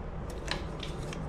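Barber's scissors snipping hair during a French haircut, a few quick, faint close snips over a quiet room background.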